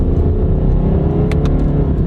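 A car engine revs in low gear with a cleaning additive running through it, giving a steady, loud, close drone with no talking.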